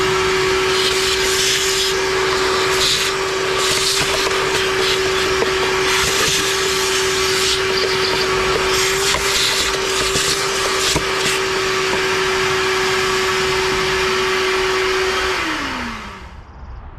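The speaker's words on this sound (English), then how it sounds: "It is pretty filthy, so we are going to give it a little vacuum." A vacuum cleaner runs loud and close as it cleans a dirty car air filter from a 2024 Chevrolet, a steady whining drone with scraping and rustling over it, then the motor winds down and cuts off near the end.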